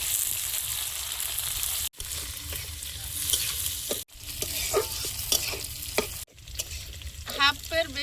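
Chopped onion sizzling in hot oil with dry chili, cumin and crushed garlic, cooked outdoors on a street, frying steadily with stirring scrapes, briefly cut off by short gaps.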